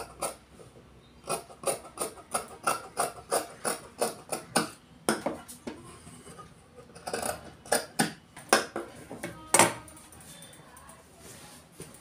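Scissors snip through shirt fabric while a tailor cuts the front panel of a half shirt, a quick series of crisp close clicks and rasps, pausing briefly midway before resuming.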